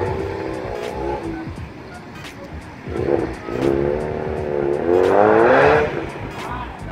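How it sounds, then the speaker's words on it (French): A Ford Mustang drives past, its engine note rising and revving as it approaches and swells loudest near the end, with someone talking over the passing car. "Une Mustang. Des Mustangs."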